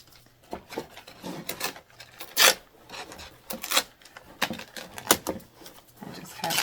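Decoupage napkin being torn and pulled off a surface by hand, close irregular papery rips and rustles in short bursts separated by brief pauses.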